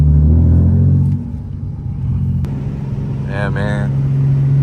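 A manual Nissan 370Z cruises along, its engine giving a steady low rumble that dips slightly partway through, while someone talks briefly over it.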